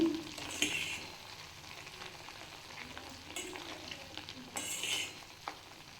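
Homemade ghee from buffalo butter with a ground powder stirred in, sizzling and frying in a pan, a steady soft crackle with occasional utensil scrapes and clinks, fairly quiet and close.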